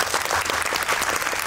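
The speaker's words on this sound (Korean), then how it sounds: "답변마다 박수가 나는 것 같은데" Audience applause at a premiere Q&A screening of the film Seoul Spring with director Kim Sung-su, a dense, loud burst of clapping from a large crowd, steady and unbroken.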